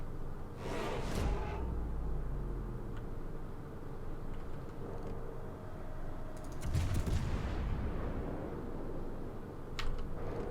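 Naval guns on the HMS Cheshire warship fire in a video game, with heavy booming blasts and rumbling shell noise that recur in bursts over steady engine drone.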